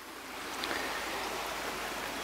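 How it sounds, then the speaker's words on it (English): A spring creek on a Kentucky farm flows over stones, a dense steady rushing wash that is loud and close and continues unbroken, with no voices. "This stream is breathtaking and it T-bones into another bigger stream."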